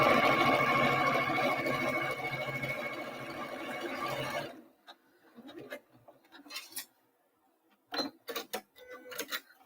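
A sewing machine stitches a zigzag for about four and a half seconds with a fast, steady, close whirring rattle, then stops, leaving scattered faint ticks and clicks.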